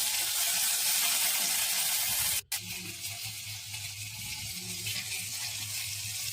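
Ingredients for bread pakoda sizzling in hot oil in a pan, a loud continuous frying hiss that cuts out for an instant, then returns softer with low stirring sounds underneath.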